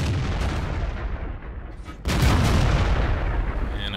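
A tank cannon fires in World of Tanks from a T26E4 Super Pershing, giving one heavy, loud boom with a long rumbling tail over continuous game engine noise.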